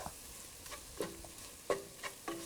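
Coriander powder, chili powder and garam masala sautéing for a beef curry, with faint sizzling and a few soft scraping stirs of a spoon in the pan.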